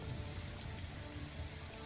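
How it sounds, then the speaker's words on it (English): Steady, dense rain ambience in a tabletop RPG scene of blood rain falling around drone wreckage, a continuous even patter with no distinct thunderclap. "It's pretty still and silent other than the thunder and blood rain going on."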